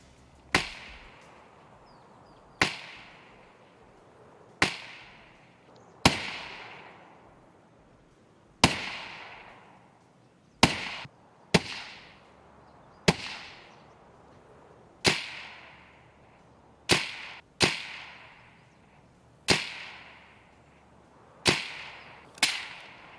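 Suppressed sniper rifle shots in Escape From Tarkov heard from 50 meters, a dozen or so sharp cracks at uneven intervals, each followed by a short fading tail, with near silence between.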